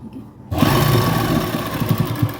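After a brief quiet moment, a sewing machine starts up to stitch lace onto fabric, running at a close, loud, steady rattling whir until the end.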